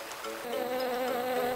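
Bees buzzing in a restored natural area, a close, steady droning hum that swells slightly, heard alone.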